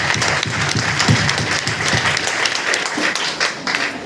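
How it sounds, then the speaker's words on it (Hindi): An audience at a DXN meeting in Basti claps loudly and steadily, a dense wash of many hands applauding continuously throughout, with no talk over it. "अपने लिए जोरदार ताली बजा लीजिए"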